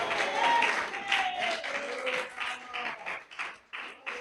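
A church congregation applauds, a fairly faint wash of clapping that swells at first and thins out over a few seconds, mixed with scattered voices.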